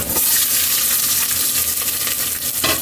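Onion sizzles and fries in a hot pan for pork sinigang, giving a loud, dense, continuous crackle with faint stirring scrapes and no voices.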